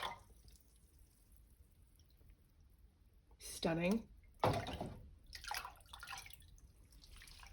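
Dye being poured into a cold yarn dye bath makes a couple of brief splashing, trickling pours over quiet room tone, with a short spoken remark and small clicks around them.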